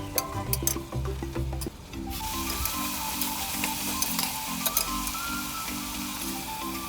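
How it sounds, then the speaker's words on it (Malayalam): Biryani masala with ginger, garlic and green chili paste stirred in a hot pan, a steady close sizzle broken by repeated scraping strokes of a spoon, with some faint tonal music in the background. "2 മിനിറ്റ് ഇളക്കുക."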